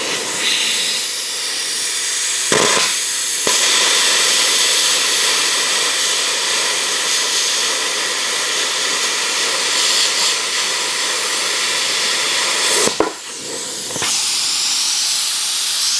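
ArcCaptain Cut55 plasma cutter slicing through slightly rusty 1/8 inch mild steel, a loud steady hissing roar that runs continuously for most of the clip, with brief breaks and sharp cutoffs near the start and end.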